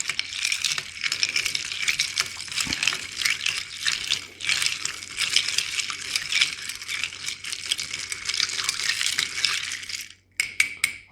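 Ice being stirred in a mixing glass for a Gibson martini, a steady close rattling and clinking of cubes against glass lasting about ten seconds before stopping abruptly.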